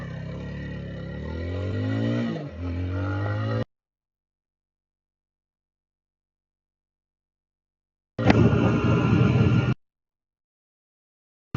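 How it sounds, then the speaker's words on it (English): A 2026 BSA Bantam 350 motorcycle accelerating hard on the road toward the national speed limit: a loud engine note climbs for about three and a half seconds and cuts off, then after a long silence a second loud burst lasts under two seconds. "it's time to give the BSA Bantam 350 the acceleration test up to the national speed limit"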